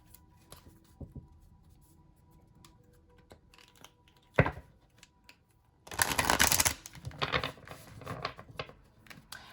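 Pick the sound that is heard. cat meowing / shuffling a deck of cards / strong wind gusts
shuffling a deck of cards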